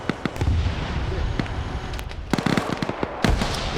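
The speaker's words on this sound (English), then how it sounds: "We just heard AT get launched." An anti-tank rocket is launched at a BTR in a video game war battle, a loud sharp blast around the two-and-a-half-second mark amid scattered pops and booms of gunfire and explosions, with some talk underneath.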